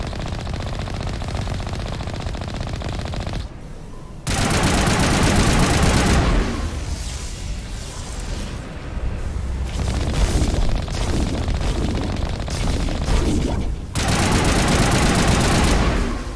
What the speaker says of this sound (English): Oh no, they're firing at us.